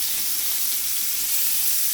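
Pork chop sizzling steadily in a hot skillet just after being flipped, a dense, even frying hiss with no talk over it.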